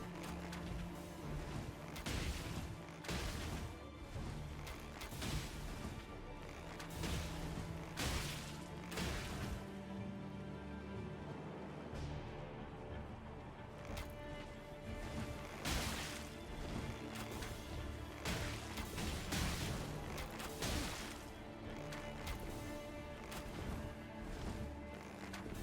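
Explosive crossbow bolts strike targets in Elden Ring, landing as repeated heavy thuds and blasts over a dense, busy game soundscape of music and combat noise, with impacts recurring irregularly across the stretch.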